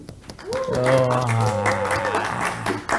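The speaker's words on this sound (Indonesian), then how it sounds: "tepuk tangannya dong" Applause from the audience at a panel discussion for the Tangguh Award 2023, with steady clapping running under a sustained voice that sounds like cheering or a drawn-out call for most of the clip.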